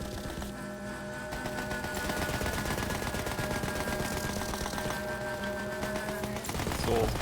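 Sustained rapid automatic gunfire from the shooter game Borderlands 3, a dense continuous rattle of shots over droning game sounds, ending with a louder burst.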